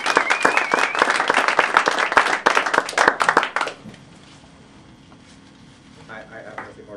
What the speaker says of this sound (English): That was a good resounding applause.